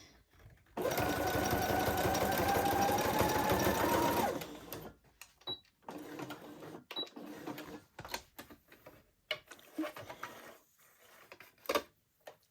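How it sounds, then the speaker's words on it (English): A sewing machine runs a zigzag stitch along a roller derby helmet cover in one loud, steady burst of a few seconds, followed by quieter scattered clicks and fabric handling. "I'm just going to zigzag this down so that the edge stays still."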